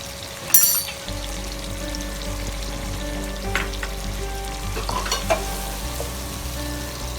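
Ground spices for a masala kebab karahi frying in a pan, a steady close sizzle with stirring scrapes and a few sharp spatters, no voices.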